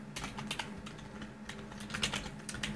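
Steady typing of code on a computer keyboard, a quick continuous run of close, light key clicks over a low hum.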